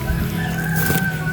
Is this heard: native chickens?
yes